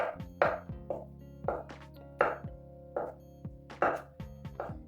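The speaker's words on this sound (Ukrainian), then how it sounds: "Маю ось такі відварені курячі яйця. Нарізаю теж соломкою." A knife slices boiled chicken eggs into thin strips against a cutting board, about a dozen crisp, fairly regular strokes close by, with no talking.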